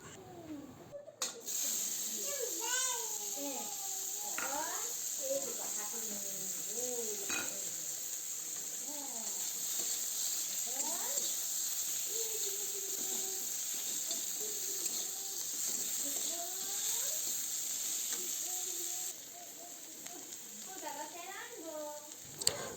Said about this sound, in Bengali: এবার সেগুলো উঠিয়ে এই তেলটার মধ্যেই পেঁয়াজ কুচিগুলি দিয়ে একটু ভেজে নেব